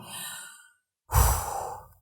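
A person blows out a forceful breath during a breathing exercise, a soft airy exhale first, then a pause and a stronger, louder blown exhale, close and alone.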